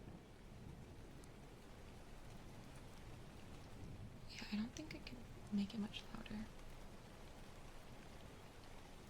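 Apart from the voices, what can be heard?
rain sound in ASMR stream background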